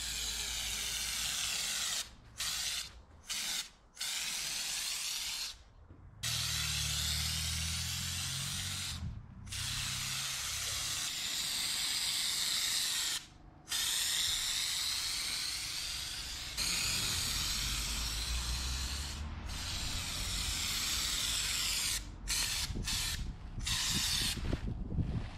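Raptor coating sprayed onto the trims of a DIY Mercedes camper build, a loud continuous spray hiss in long bursts with brief pauses between passes and occasional mechanical clatter, no voices.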